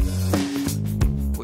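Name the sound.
bass in a full mix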